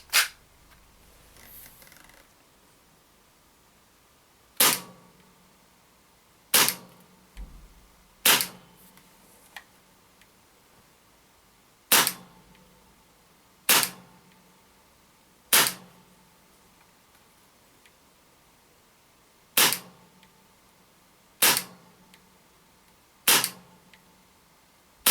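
A Tokyo Marui Glock 19 gas blowback airsoft pistol firing: a series of sharp, snappy single shots with the clack of the slide, spaced unevenly a few seconds apart, close and loud against quiet background.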